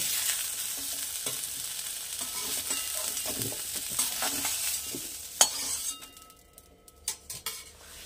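Potato and brinjal pieces frying in a little oil, with a constant close sizzle and spatula stirring. Toward the end the sizzle drops away and a few metallic clinks and scrapes of utensils on the pan follow.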